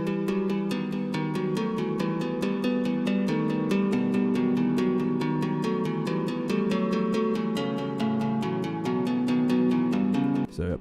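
An arpeggiated chord progression in E melodic minor with a melody on top, with steady rapid note patterns over sustained harmony and a regular ticking pulse, continuous and moderately loud, cutting off abruptly at the end.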